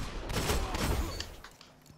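Hand cannon gunfire in a first-person shooter match at Widow's Court, a quick cluster of heavy overlapping shots and rumbling impacts over about a second, then a fading tail and a faint sharp click at the end.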